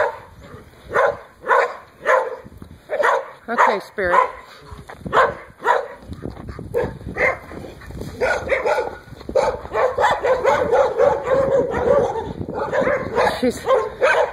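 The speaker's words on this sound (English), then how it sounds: "Sorry for all the dogs barking." Several dogs barking and yipping in rapid repeated bursts, loud and close, with some whimpering mixed in, while a person speaks briefly over the din.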